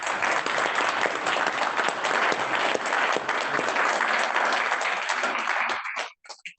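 A room of club members at a Kiwanis meeting breaks into dense, steady applause that holds evenly for several seconds, then thins to a few scattered claps and stops.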